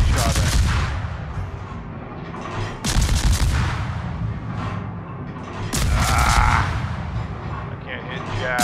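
Naval guns in World of Warships fire in heavy, booming salvos, three big blasts spaced a few seconds apart over rumbling battle noise, while a voice talks throughout.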